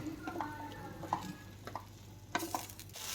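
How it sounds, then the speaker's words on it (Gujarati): Mixed vegetables sautéed with tomato puree in a pan for Indian-style vegetable pasta: soft scraping stirs and light clinks over a quiet, steady sizzle, with no voices. "ટમેટાની પ્યુરી સાથે આપણે બધા જ વેજીટેબલ્સને મિક્સ કરી અને સાતળશું આપણે."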